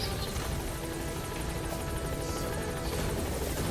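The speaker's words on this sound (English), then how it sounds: "Support helicopter has arrived." A support helicopter in Metal Gear Solid V: The Phantom Pain roars close by, its rotor chopping in a loud, steady, unbroken drone with no talk over it.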